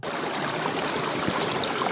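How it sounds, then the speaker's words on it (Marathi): Stream water gurgles and rushes steadily nearby, a continuous bright wash of flowing water with no voices. "तुम्हाला या पाण्याचा खळखळाट बघा"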